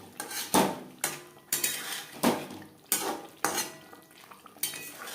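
Potatoes being stirred with spices in a cooking pot for a vegetarian potato and paneer curry, a spoon scraping and clanking against the pot in about eight regular strokes with a faint sizzle underneath.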